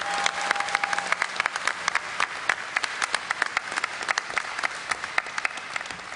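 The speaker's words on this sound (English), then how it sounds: "so if you could just give a big hand to those guys out there," Loud, dense applause from a BlizzCon audience, made of many sharp individual claps, continuous and close for the whole stretch.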